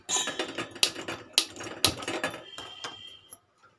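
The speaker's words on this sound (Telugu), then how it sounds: "ఇప్పుడు స్టవ్ మీద గిన్నె పెట్టుకొని స్టవ్ వెలిగించుకోవాలి" A metal pot is set on a kitchen stove before cooking tomato rasam: several sharp, close clanks and rattles of cookware over a few seconds, ending abruptly in silence.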